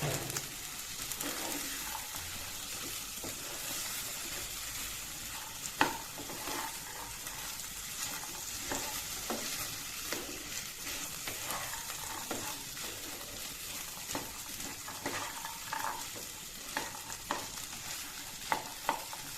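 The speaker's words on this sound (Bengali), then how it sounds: "এবার আমি এখানে চনাবুট আর আলু সিদ্ধগুলি দিয়ে নিচ্ছি এবার ভালো করে মিশিয়ে নিচ্ছি" Boiled chickpeas and potatoes stirred and fried together in a pan: a soft, continuous sizzle with frequent scraping and clicking of a spoon, close and moderately quiet, with no voices.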